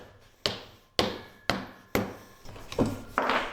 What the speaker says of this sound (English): using a soft hammer, impact hammer